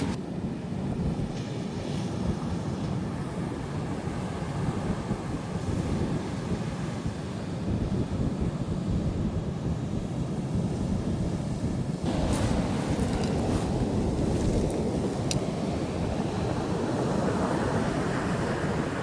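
Ocean surf on a beach in Timaru, New Zealand, a constant loud roar of breaking waves mixed with heavy wind buffeting the microphone, swelling slightly near the end, no talking.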